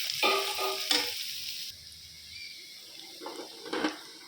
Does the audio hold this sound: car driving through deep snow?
no